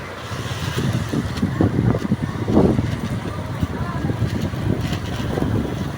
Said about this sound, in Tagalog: Ang lakas ng hangin mga friends.